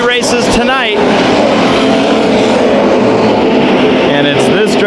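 Stock cars in a heat race at Bakersfield Speedway roar loudly and continuously, engines droning and shifting pitch as cars pass, with an announcer's voice over the racket.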